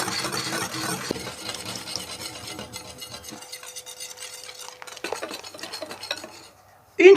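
Eggs being stirred into flour, sugar and baking powder in a bowl for a cake batter, with a utensil scraping and clinking steadily against the dish, near and moderately loud, ending in a sharp knock.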